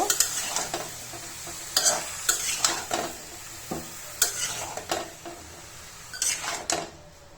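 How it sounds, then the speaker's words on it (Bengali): A spatula scrapes and stirs bottle gourd in a frying pan, with repeated clattering strokes over a soft sizzle, no voices. "লাউর সাথে মিশিয়ে নিব"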